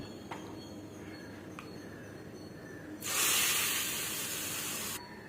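Chutney gets tempered in hot oil, a sudden loud bright sizzle that bursts in and holds steady for about two seconds before cutting off, after quieter kitchen background with faint clicks.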